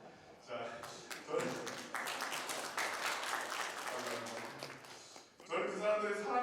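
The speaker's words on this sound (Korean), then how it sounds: "보통 이럴 때는 박수가 나옵니다." A congregation at a Korean Sunday worship service breaks into several seconds of hearty clapping, with a pastor's voice heard speaking before and after.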